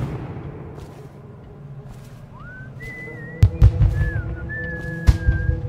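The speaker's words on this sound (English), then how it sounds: "Who is whistling?" In the video game Dishonored, someone whistles a few short sliding tones over a low rumbling background, with sharp thuds and impacts breaking in.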